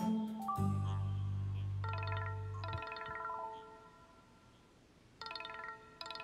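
A phone ringtone plays in a quiet room, a short electronic melody of bright tonal notes repeating in bursts after a low humming tone at the start, fairly faint overall.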